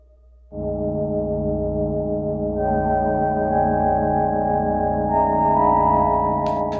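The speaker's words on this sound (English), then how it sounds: "what's giving it that sound is ring modulation" A sustained, ghostly metallic Yamaha CS40 synthesizer drone sampled on an Ensoniq Mirage, with clanging, inharmonic ring-modulated overtones, starting abruptly and holding steady, building slightly in brightness toward the end.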